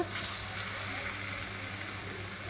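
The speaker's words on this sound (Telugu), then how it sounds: "సో ఇవి ఇట్లా గోల్డెన్ కలర్లో వచ్చేంత వరకు ఫ్రై చేసుకోవాలి" Potato french fries fry in hot oil with a faint, even, hissing sizzle that stays steady and unbroken throughout.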